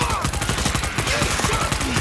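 Rapid automatic gunfire rattles in a tight, continuous burst during a video game firefight, close and loud for the whole moment, with no clear speech over it.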